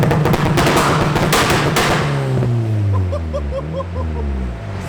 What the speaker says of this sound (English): currently setting up the launch control, so we can do some massive start line nuggets